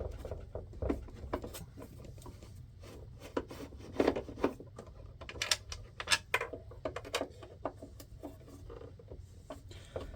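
Screws are undone on the upturned battery box of a MobilityPlus+ Triumph mobility scooter, heard as close, irregular clicks, ticks and small rattles with brief louder taps and no voices.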